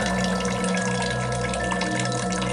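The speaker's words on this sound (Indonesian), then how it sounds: "Ia merasa ada suara keran yang terbuka." A bathroom water tap runs continuously, a steady close hiss of flowing water with faint dripping texture and no voices.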